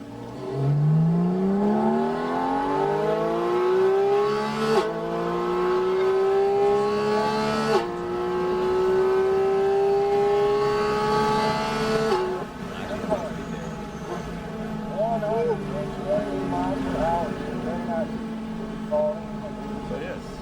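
A race car engine on a track revs up steadily through several gear shifts, rising in pitch each time, then settles into a steady drone; loud and continuous.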